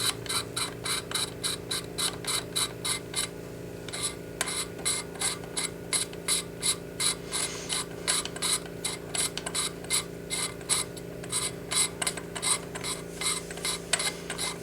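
The end cap of a JTS Airacuda Max regulator is unscrewed by hand, producing a close, rapid series of dry ratcheting clicks and scrapes in bursts with brief pauses, over a faint steady background hum.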